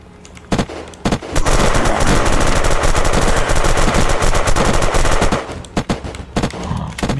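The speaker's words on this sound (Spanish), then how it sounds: "Están disparando además." Gunfire in the zombie video game Unturned: long, dense bursts of rapid automatic shots, loud and close, then a few scattered single shots as the bursts die down.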